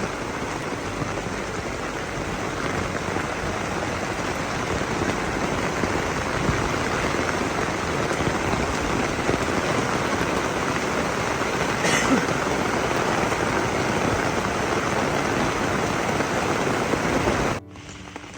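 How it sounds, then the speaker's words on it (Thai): Heavy rain pours at night during a flood-hit rainy-season trip, a dense, steady hiss that runs unbroken for well over fifteen seconds before cutting off abruptly. "เม็ดฝนยังคงลงโปรยปลาย"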